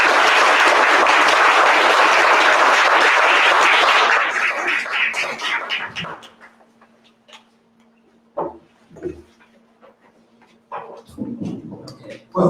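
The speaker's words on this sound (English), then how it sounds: "Please help me give him a round of applause." Audience applause at a talk at Eastern State Penitentiary: dense, loud clapping for about four seconds that thins and fades out, leaving a quiet room with a faint hum and a few scattered sounds before talk resumes.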